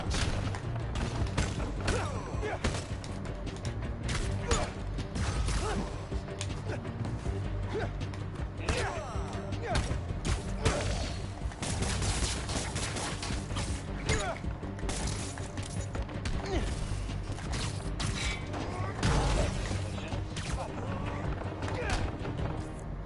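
Busy combat from Spider-Man: Miles Morales, with dense, continuous clattering impacts and scattered gunshots against ranged enemies running through the full length, and talk present in the mix.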